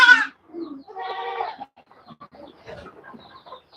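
Goats bleat on a farm: a loud, close wavering call, then a second longer bleat, followed by quieter scattered farmyard noises.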